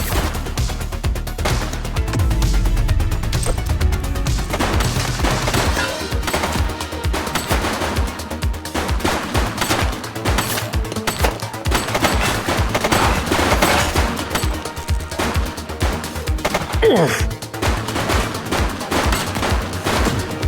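Dense, loud gunfire in The Precinct police video game, with sustained automatic bursts and rapid shots over a steady bass-heavy game mix, continuous for about twenty seconds without talk.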